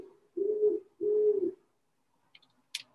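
A great horned owl in backyard oak trees gives two deep, steady hoots in a row, clear against quiet air, followed by a few faint high chirps.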